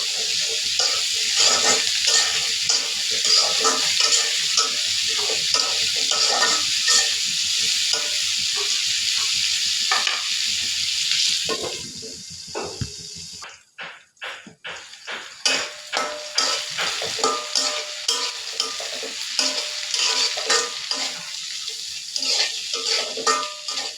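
Cumin paste hits a hot pan, and a dense, loud sizzle fills the first half. It then drops sharply and returns as choppier frying with repeated stirring and utensil clatter.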